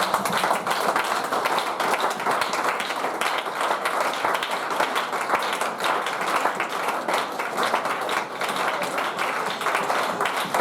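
A church congregation applauding, a steady, dense clapping that holds at an even level throughout, fairly distant and without talk.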